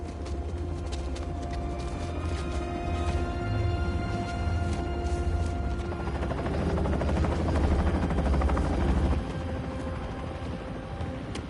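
Norman Osborn's helicopter in the video game Marvel's Spider-Man 2, a steady rotor drone that swells and grows slightly louder midway, holding a continuous whirring chop throughout without speech.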